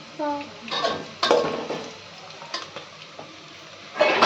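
Spices and masala frying in a pan for coconut biryani, giving a soft sizzle broken by several clinks and scrapes of a stirring spoon against the pot, with a louder burst of sizzling at the end.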